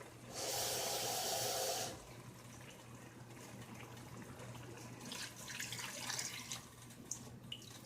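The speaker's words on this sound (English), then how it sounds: "I'm going to add 1 cup of water" Water pours in a brief, steady splashing stream into a pot of potatoes for about a second and a half, then quiet kitchen clinks and faint trickles follow.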